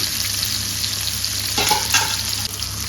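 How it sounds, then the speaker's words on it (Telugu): Fish pan-frying in a masala of mint and green chilli, a steady close sizzle with a few louder stirring scrapes partway through, no talking. "స్లోగా అటు ఇటు వేసుకుంటూ మనము వేయించుకోవాలా లేదంటే స్కిన్ అంతా పాడైపోతుంది"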